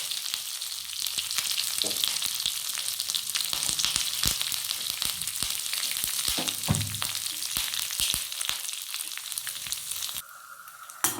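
Curry leaves and dried shrimp fry in hot oil in a pan, giving a steady close sizzle with occasional stirring scrapes, with no talking.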